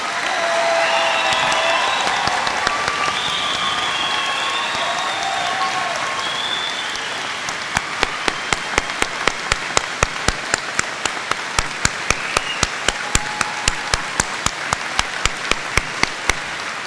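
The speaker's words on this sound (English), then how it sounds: "so we can give them all a round of applause" Graduation convocation crowd applauding graduates: a broad wash of clapping that builds into dense, loud, sustained applause with sharp rhythmic claps in the latter half, no speech.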